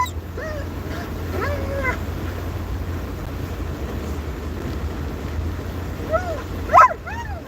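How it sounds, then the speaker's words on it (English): A dog whines and yips in short pitched bursts near the start and again toward the end, over a steady low hum in a quiet room, with no talking. "I hear you, dog. You don't have to keep telling me."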